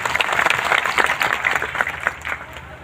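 Applause from an audience at a tribal community gathering, many hands clapping steadily and densely for a young speaker, a moderately loud continuous patter filling the whole moment.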